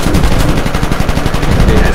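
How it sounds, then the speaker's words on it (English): Continuous rapid machine gun fire in the World War One air combat game Warplanes: WW1 fighters, a loud dense stream of shots rattling steadily for the whole stretch with no talk over it. "Oh, machine gunner is on me."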